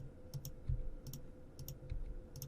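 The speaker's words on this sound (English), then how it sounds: "right mouse click" Quiet, crisp clicks in loose pairs and singles, close by, over a low steady hum.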